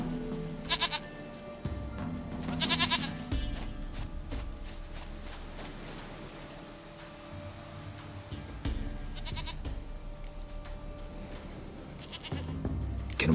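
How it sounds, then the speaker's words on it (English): Goats bleat repeatedly in The Witcher 3, a series of nasal, wavering calls spaced across the clip over a steady low ambient game backdrop, with faint footsteps. "Goat of mine, dearest, sweetest goat."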